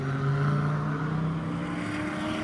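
A De Tomaso Pantera runs on a race track, giving a steady, loud engine drone with a low rumbling tone held throughout the short stretch.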